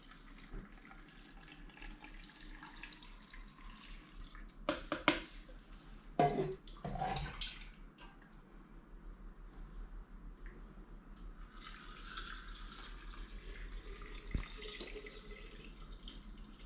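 Cold salted brine is poured over pickles in bursts, with a couple of louder splashes midway and a steadier trickle of liquid toward the end.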